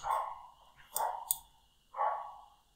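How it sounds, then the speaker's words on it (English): A dog barks a few times at a distance, faint and spaced out, with small clicks between the barks. "That is my dog in the background,"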